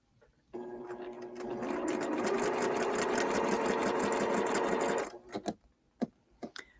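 A sewing machine stitches quilt block pieces in a close, steady mechanical whir lasting several seconds, then stops, followed by a few scattered clicks and handling noises.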